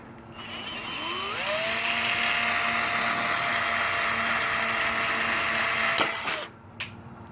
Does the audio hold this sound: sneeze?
no